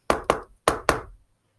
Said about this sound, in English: Frog knocked at Toad's door.